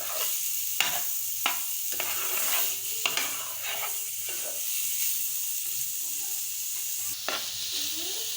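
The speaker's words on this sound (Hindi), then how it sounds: "चिकन डाल के अच्छी तरह मिक्स कर लेना" Chicken being stirred and mixed in a frying pan during shawarma preparation, with a steady sizzle broken by repeated scraping strokes of a spatula, close and moderately loud, with no talking.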